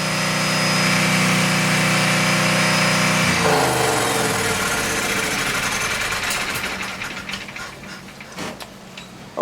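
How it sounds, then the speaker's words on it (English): A boat generator on a 2005 Sea Ray 340 Sundancer runs loudly at a steady hum, then shuts down partway through, its drone fading to quiet with a few clicks. "That's the generator."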